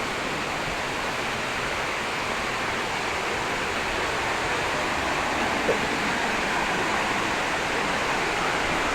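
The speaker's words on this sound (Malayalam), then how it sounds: "വെള്ളം കുത്തി പറക്കുന്നുണ്ട്, സ്പ്രേ പോലെ പറക്കുന്നുണ്ട് വെള്ളം കുത്തി" Steady, dense rushing of Marmala Waterfalls throwing up spray, a broad continuous roar with no breaks, close and fairly loud throughout.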